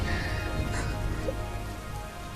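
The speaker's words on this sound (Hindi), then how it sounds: "इतनी बारिश है, इतनी बारिश है।" Heavy rain falls steadily as a dense, continuous wash of noise, fairly loud and unbroken from start to finish, with no voices heard over it.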